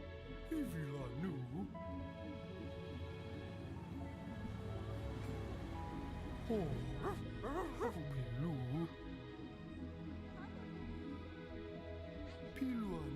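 A dog barks and yips with whimpering, rising and falling cries, mixed under near-continuous talking and other background sound.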